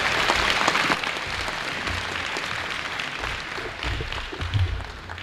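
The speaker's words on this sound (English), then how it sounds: "how about a big round of applause for all of our honorees tonight" Audience applauding honorees at a sports hall of fame banquet ceremony, a steady, full round of clapping from a large crowd lasting several seconds, loudest at the start and easing slightly.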